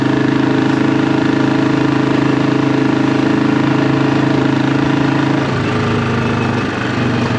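A classic 500 motorcycle with an aftermarket Hitchcock's Goldstar exhaust idles steadily with a loud, throaty exhaust drone, then the engine note shifts and dips slightly near the end.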